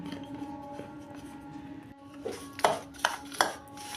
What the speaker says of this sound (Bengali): বন্ধুরা এটা ভালো করে আমরা মিশিয়ে নিচ্ছি